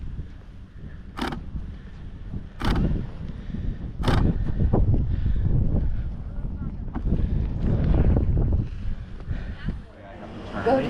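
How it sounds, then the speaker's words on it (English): Steady wind buffets the microphone with low rumbling gusts, alongside creaks and a few sharp knocks, while people talk intermittently. "slightly windy"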